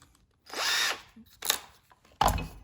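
A power drill fitted with a bigger bit bores into wood with a loud whining burst, then gives two shorter revving pulses, all up close.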